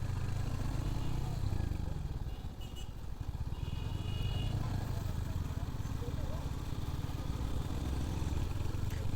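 Royal Enfield Hunter 350 motorcycle on a test ride, with a steady low engine drone and road rumble throughout, close and continuous, with a brief dip partway through.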